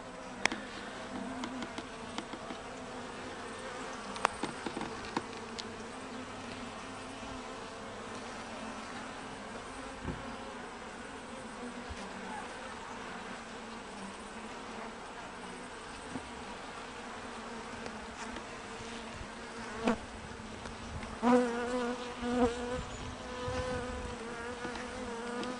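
Carniolan honeybees swarm around an open backyard hive, a steady dense buzzing drone with individual bees zipping close past the microphone, no talking.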